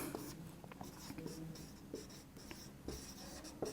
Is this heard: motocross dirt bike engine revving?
no